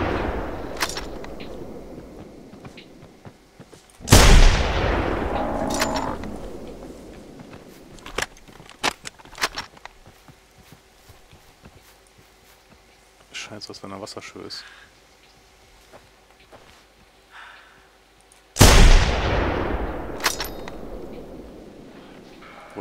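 Rifle shots from the hunting game theHunter: Primal with a .50 cal sniper rifle on a Triceratops hunt: two loud, sharp booming shots spaced far apart, with someone talking in German over quieter clicks and ambience.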